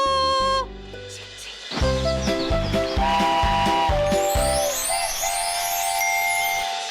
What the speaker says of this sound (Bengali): এসে গেছে একটা মিষ্টি টয় ট্রেন